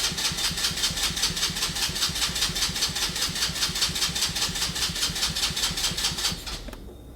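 An abandoned go-kart's small engine fires up on starting fluid and runs in a fast, steady, loud putter for about six seconds before dying away.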